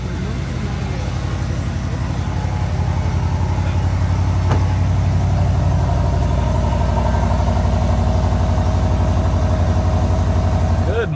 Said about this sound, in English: All right, cold start in the RST.